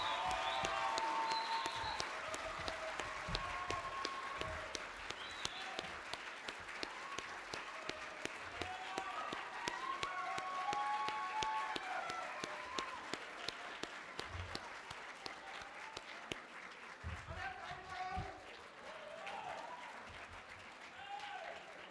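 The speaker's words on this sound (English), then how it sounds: "I would like to ask all the students and everybody in the room to stand up and give these teachers a round of applause" Students and others in a room stand and applaud teachers at an education ministry speech, a long, steady wash of many hands clapping, heard at some distance and fairly faint, with occasional voices underneath.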